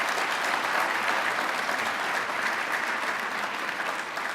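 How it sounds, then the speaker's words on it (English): Steady, full applause from a civic audience honoring elected officials at a Sacramento State of the City address, a dense even wash of clapping lasting the whole stretch. "Let's give all of our elected officials a round of applause."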